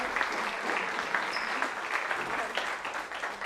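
A round of applause from an audience at a networking event for its keynote speakers, with dense clapping from many hands at steady strength, a brief whistle partway through and a few voices under it.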